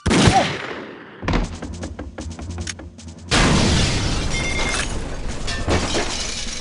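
Gunfire in 007: The World Is Not Enough, a sharp crack up front, then a quick run of rapid shots, and finally a loud sustained burst with impacts ringing over it.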